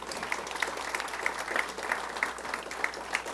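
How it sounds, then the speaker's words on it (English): Audience applauding veterans at a ceremony, a steady spread of many hands clapping with sharper claps standing out, fairly distant and even throughout. "May I have an applause for these fine men?"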